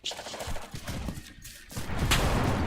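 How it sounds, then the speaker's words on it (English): Rapid bursts of gunfire crackle in quick succession, dense and fairly close, with scattered thuds. "Why am I hearing gunshots?"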